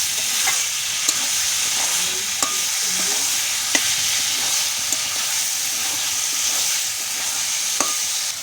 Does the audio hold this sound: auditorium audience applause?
no